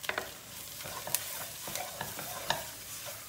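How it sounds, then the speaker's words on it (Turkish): A spoon stirring flour into tomato paste fried in a pot for Turkish bulgur soup, with soft scraping strokes and a light sizzle, close and steady with a few sharper clicks against the pot. "Onu da iyice bir karıştıracağız. Salçayla beraber."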